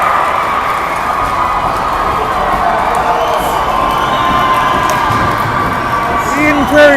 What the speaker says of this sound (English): Prairie crowd on their feet